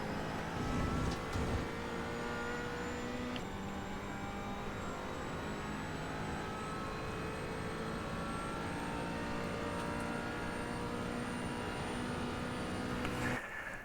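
McLaren 570 GT4 race car engine lapping Silverstone in a racing video game, a steady high-pitched drone with slowly climbing revs under constant load, loud and close, a short blip of shifting near the start and end, no talk.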